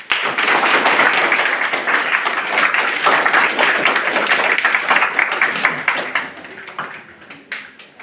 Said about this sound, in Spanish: Un aplauso para la señorita